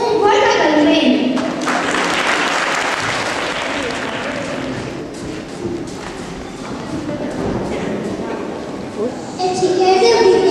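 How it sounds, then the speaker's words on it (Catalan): An audience at a school Christmas show claps for first-grade children, dense sustained applause close and loud for several seconds, thinning slightly midway then swelling again, with voices mixed in. "Un fort aplaudiment."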